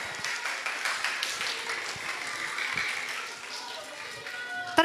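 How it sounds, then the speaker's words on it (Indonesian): Audience applause for a school theater club at an elementary school extracurricular showcase, a steady patter of clapping lasting throughout with crowd chatter mixed in. "Bapak Ibu kasih tepuk tangan dulu buat Ekskul Teater."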